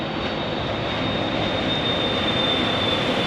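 An airliner in Star Alliance livery at Phoenix Sky Harbor airport gives off a loud, steady engine roar with a thin high whine, sustained without a break and with no talk.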